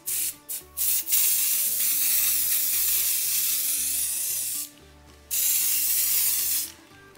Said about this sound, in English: It's gonna blast it with glitter to make it nice and sparkly.